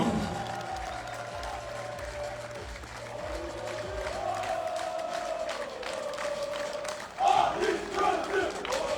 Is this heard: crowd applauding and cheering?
yes